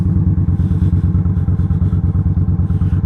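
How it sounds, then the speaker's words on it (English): A motorcycle engine runs steadily nearby at a motorcycle safety course in Chattanooga, Tennessee, during a power-braking drill, its low throbbing note loud and continuous, with clattering pulses and no voices. "Power braking."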